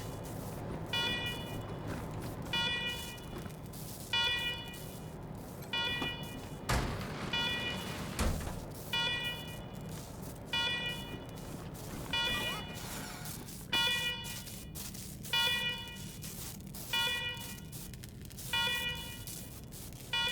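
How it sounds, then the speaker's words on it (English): Alarms blaring in the video game Wasteland 3, repeating bursts of an electronic warning tone in a steady pulsing rhythm over a low hum, with a couple of heavier thuds in the middle. "let's talk after you kill the alarms"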